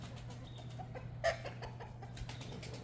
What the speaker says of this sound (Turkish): Vallahi tavuklar deliriyor ha.